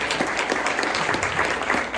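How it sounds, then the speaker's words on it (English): Audience applause at a community day-of-service event, steady dense clapping from a crowd filling the whole stretch at even loudness. "We'll give a rousing round of applause to these incredible leaders."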